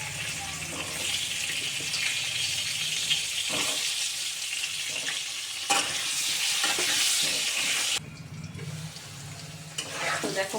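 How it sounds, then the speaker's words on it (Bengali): Potato pieces fry in hot oil seasoned with salt and turmeric, giving a steady, close sizzle broken by the scrape and clatter of stirring. "এই তেলের মধ্যে আমি অল্প করে আলুগুলোকে একটু ভেজে নেব।"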